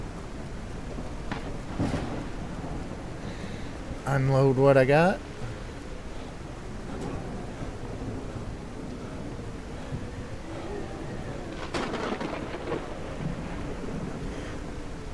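Rain and rolling thunder from a storm in a post-apocalypse survival game, a steady wash with low rumbles, while someone talks over it throughout and a brief louder tonal burst cuts in near the middle.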